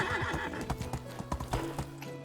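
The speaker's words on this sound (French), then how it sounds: "Donc on va essayer de sauter avec le cheval." Horse galloping with rapid clip-clop hoofbeats and repeated loud neighs and whinnies as it jumps a fence in the video game Medieval Dynasty, close and continuous, with no talking.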